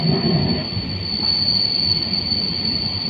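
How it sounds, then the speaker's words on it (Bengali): Wheels of the 13126 Sairang to Kolkata Express rolling slowly on a curve over the Nasipur rail bridge across the Ganges, a loud sustained high-pitched squeal riding over a continuous rumble, with no talking. "কার্ভ লাইনের ভিতর দিয়ে আস্তে আস্তে এগিয়ে চলেছে আমাদের ট্রেন"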